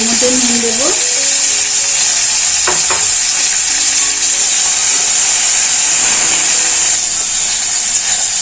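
Onions and tomatoes fry in hot oil with a little sugar in a pan, giving a loud, steady sizzle and hiss that runs throughout, with brief stirring scrapes near the start.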